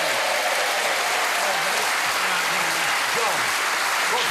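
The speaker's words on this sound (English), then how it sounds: "Nice warm round of applause." A studio audience at a Christmas special game show gives a warm round of applause, dense continuous clapping filling the room throughout with a voice faintly audible beneath.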